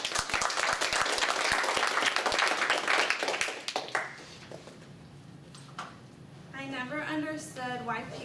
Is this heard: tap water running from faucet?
no